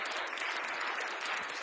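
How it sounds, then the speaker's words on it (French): An audience at a youth debate tournament final claps in a short, even burst, faint and distant, with no voices over it. "Excellent, vous pouvez applaudir."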